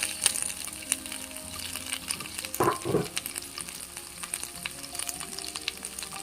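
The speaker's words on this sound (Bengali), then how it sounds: "এরপর বাদবাকি বরবটিগুলোকে ভেজে নেব।" Yardlong beans and capsicum frying in oil give a soft, continuous sizzle at close range, broken by a couple of brief clinks from stirring.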